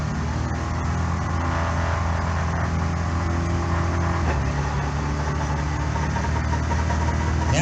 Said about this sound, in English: he's going to try out his small 4-cylinder engine and get it started